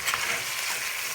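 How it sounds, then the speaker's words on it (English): Onions sautéing in a pan for Filipino chicken afritada, a steady close sizzle with faint stirring scrapes and a brief louder burst at the very end, no voices. "And then you're just going to cook that until the onions are translucent."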